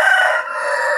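An ornamental BK ekor lidi rooster kept for show rather than fighting crows loudly and close by, one sustained, unbroken call with no talk.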